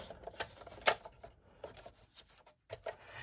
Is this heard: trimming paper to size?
yes